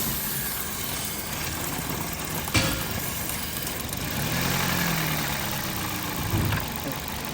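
A Toyota Corolla engine idles with a steady mid-low rumble while a brake booster hose is pulled off to create a vacuum leak, bringing a sharp click and a slight rise in the hiss and drone.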